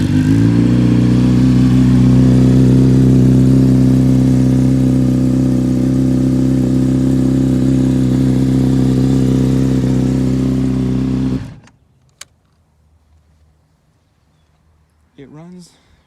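A rebuilt 2008 Honda CBR600RR motorcycle runs loud and close, a steady idle with rising revs for about eleven seconds before the engine cuts off, leaving near-silence broken by a couple of faint clicks.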